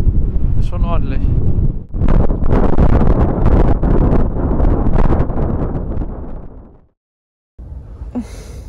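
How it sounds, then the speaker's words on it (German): Strong winter gusts buffet a camper van parked in the Netherlands, producing a heavy, close, low roar that surges and eases. The roar drops to near silence for a moment before the wind returns. "Ab und zu nimmt es ein bisschen ab, weil dann kommt immer die nächste Böe."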